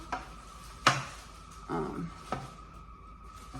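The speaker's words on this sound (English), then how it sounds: "now I'm just chopping the tofu up in the blocks" A knife chops tofu into blocks in a home kitchen, giving a few sparse, irregular thuds against a board amid quiet room noise.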